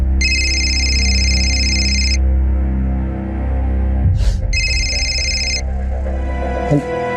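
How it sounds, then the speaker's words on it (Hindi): A mobile phone rings in two bursts of a bright repeating electronic tone, separated by a short gap, over a low steady background hum in a room. "फोन बज रहा है कब से आपका?"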